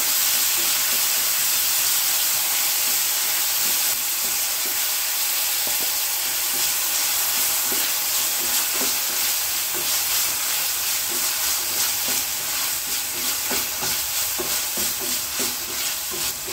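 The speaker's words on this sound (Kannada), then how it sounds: "ಇದನ್ನ ಇವಾಗ ಚೆನ್ನಾಗಿ ಬಾಡಿಸ್ಕೋಬೇಕು" Finely chopped small onion and a chopped tomato fry in a pan for catering-style cooking, giving a loud, steady sizzle and hiss with faint stirring scrapes throughout, and no talking.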